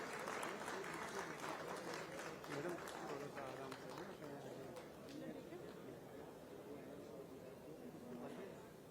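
A crowd at a public event in Jaipur claps for new voters and the Chief Minister. The clapping is faint and scattered and runs steadily beneath someone speaking over a PA system and nearby chatter.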